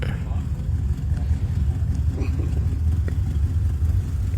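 A 1985 Chevrolet Corvette widebody coupe idles with a choppy, lumpy rumble, low and steady nearby, while people talk faintly in the background.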